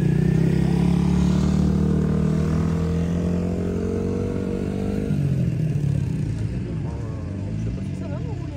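An off-road dirt bike engine runs at a steady drone that shifts pitch partway through, close and fairly loud, with voices heard over it.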